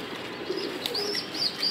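Soft pigeon cooing among foster pigeons, brief low murmurs with a few faint higher chirps, close by and fairly quiet, without any talk.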